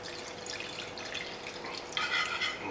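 Just over a glass of water is poured into a hot stir-fry pan with black bean sauce, giving a wet, trickling splash over faint frying that swells into a louder hiss toward the end.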